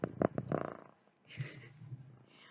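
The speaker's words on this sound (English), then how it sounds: "Hopefully her purring isn't too loud over my voice." Close by, a cat purrs in a soft, low, pulsing rumble that follows a few louder, rough bursts at the start.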